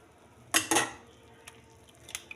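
Cake batter is beaten in a bowl with two sharp clattering knocks of utensil against the bowl near the start, then fainter taps and scrapes, close and otherwise quiet.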